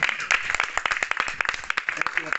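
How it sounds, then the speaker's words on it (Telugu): A congregation claps together to welcome an evangelist to the stage at a Telugu Christian sermon gathering: a dense, steady patter of many hands that holds for a couple of seconds. "అందరూ చప్పట్లు కొట్టి ఆహ్వానిద్దాం."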